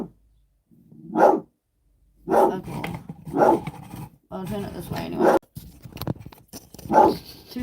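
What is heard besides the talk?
dogs barking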